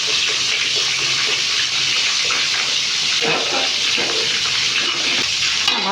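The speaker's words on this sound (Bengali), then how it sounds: "ভাতটাতে জল দিয়ে ভাতটাও অর্ধেক হয়ে গেছে।" Water gushes steadily into a pot of half-cooked rice, a loud continuous pouring rush that holds from start to finish with no pauses.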